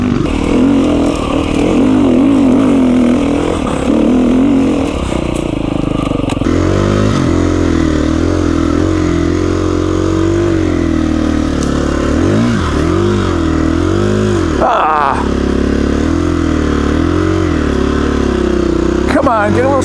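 A KTM 350 EXC-F dirt bike engine labours and chugs up a steep desert hill, loud and close, its pitch wavering as the throttle blips and the bike loses momentum, with wind buffeting throughout.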